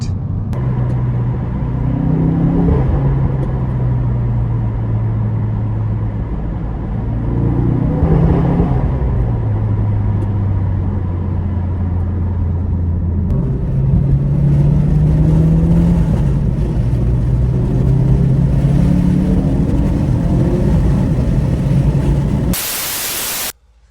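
A turbocharged Ford Focus RS Mk3 engine pulls hard through several gear changes, the pitch climbing then dropping each time, loud and sustained with heavy wind rush, ending abruptly.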